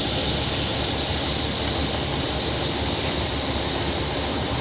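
Truck air brakes hiss steadily and loudly as the trailer brake valve is pushed in, a continuous broadband rush of escaping air lasting several seconds with no talk.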